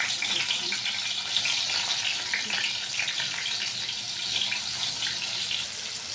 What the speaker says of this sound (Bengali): পটলগুলো ভেজে নিই